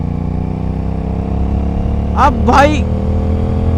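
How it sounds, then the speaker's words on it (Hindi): Aprilia RS 457 motorcycle in fifth gear around 2500 rpm pulling hard, a steady engine drone throughout with a voice speaking briefly over it midway. "फिफ्थ गियर पर हूँ, 2500 आरपीएम के आसपास हूँ। जैसे ही पुल करूँगा और पावर देखो तुम"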